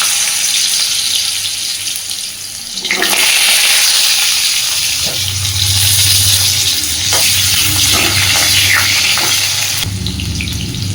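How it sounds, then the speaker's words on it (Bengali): Washed, cut potatoes frying in hot oil in a pan with black cumin, a steady loud sizzle with occasional stirring and spattering, no voices. "আলুটা সুন্দরভাবে একটু ভেজে নেব"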